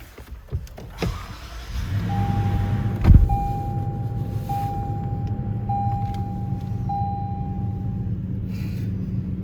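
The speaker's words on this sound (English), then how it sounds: "I'm gonna go and turn the car on." A Toyota Land Cruiser 200-series engine idles steadily and close, a low rumble that holds for about nine seconds, while a repeating electronic chime beeps at even intervals above it and a single thump sounds near the start.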